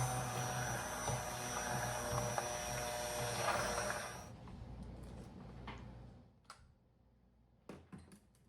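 Handheld immersion blender pureeing a pot of cooked apples for apple butter, a steady loud motor whir with a broad grinding texture running for about four seconds before cutting off, followed by a few faint clinks.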